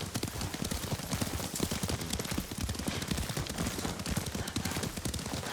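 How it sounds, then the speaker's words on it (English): Horse hooves clip-clopping at a brisk riding pace in the video game Ghost of Tsushima, a dense continuous rhythm of hoofbeats over a rough, noisy outdoor background, fairly loud and close. "Lord Sakai taught me to ride a horse"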